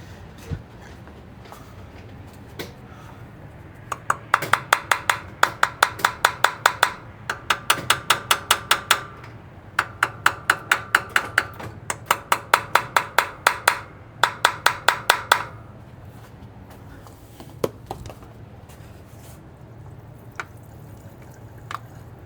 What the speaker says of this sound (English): Let me tap that float bowl.